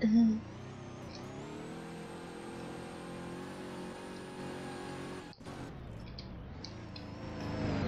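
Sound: car driving and revving in Roblox Prison Life video game

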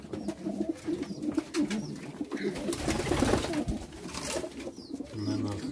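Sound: pigeons cooing in a loft

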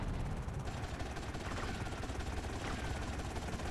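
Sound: helicopter in video game Grand Theft Auto: Vice City

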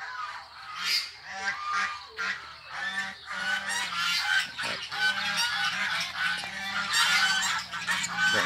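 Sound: ducks and geese honking on a farm

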